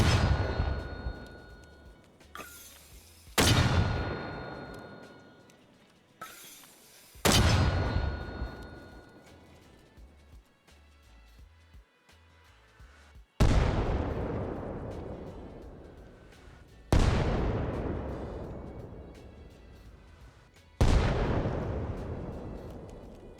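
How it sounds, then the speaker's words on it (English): A mortar in Arma Reforger fires shells one after another, each launch a loud booming thump with a long decaying rumble, about six shots spaced a few seconds apart. "So you get the mortar in your hand, and you look at the end of the barrel, and then that's how you fire it."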